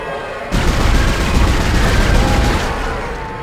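Gunfire rips through a fight with a monster in Dead Space, a dense loud burst of rapid shots starting abruptly and holding for about three seconds before cutting off.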